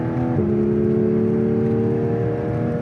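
A Porsche 911 GT3 Touring engine drones loudly and steadily from inside the car on a winding road, its tone dropping briefly early on, then holding a sustained, even pitch.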